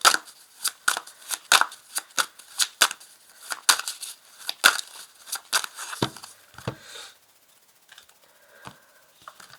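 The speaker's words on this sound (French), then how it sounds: "Alors, je place les cartes." Oracle cards from a celestial oracle deck are shuffled in a quick run of crisp, papery flicks and snaps, then laid down with a few softer, sparser slaps and slides near the end. No one speaks.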